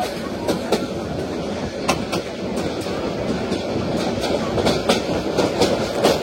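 Mahanagar Godhuli Express on the Brahmanbaria–Dhaka line near the Tongi rail bridge at night, a continuous onboard rumble punctuated by regular clickety-clack of wheels over rail joints, loud and close with no talking.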